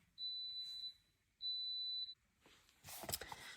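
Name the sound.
electric pressure cooker beeping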